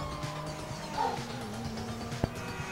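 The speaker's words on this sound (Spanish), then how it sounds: "El perro se está ladrando." A video game dog barks once or twice, small and fairly faint, over a low steady hum with a sharp knock near the end.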